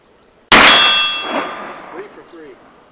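Black powder rifle round hitting a steel target, a sudden loud metallic clang that rings out and fades over a couple of seconds, with faint voices near the end.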